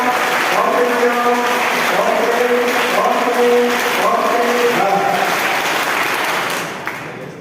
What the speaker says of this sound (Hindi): ताली बजाओ, अच्छे से बजाओ